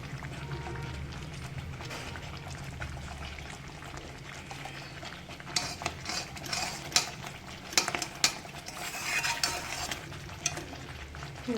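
Chettinad ukkarai sweet is stirred with ghee in a pan over the heat, with a soft sizzle under repeated scraping and stirring strokes that grow more frequent toward the end.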